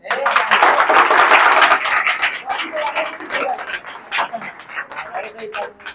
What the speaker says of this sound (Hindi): बेइज्जती के लिए ताली बजाइए